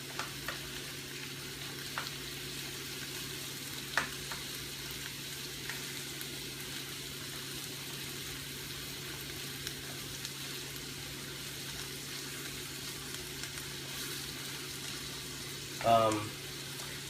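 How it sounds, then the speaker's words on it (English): Shrimp and udon noodles stir-fry in a hot wok over high heat, a steady low sizzle and hiss running throughout with faint scraping touches and a brief louder stir near the end, no voices. "keep that movement going, because the high heat of the wok will cook pretty quickly"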